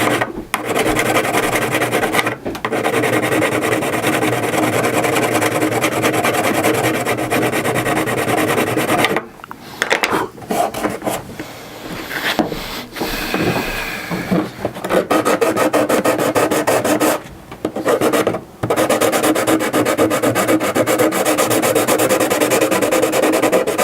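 A plastic dinosaur model kit piece is sanded flat with sandpaper in long, rasping strokes, close and loud, in steady runs broken by brief pauses.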